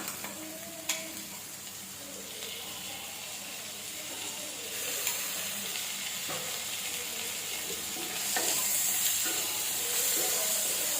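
Ginger garlic paste frying in a pan after softened onions in a kadai mushroom gravy, a steady loud sizzling hiss that swells toward the end, with a few faint utensil clinks and no talk.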